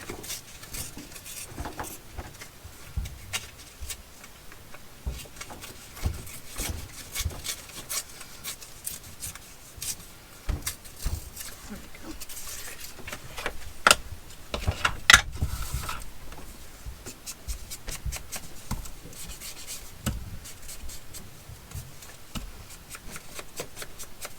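Paper scrap torn by hand into a small piece, giving a long run of dry crackling rips and scratchy tearing bursts, close and fairly quiet, with brief pauses between pulls.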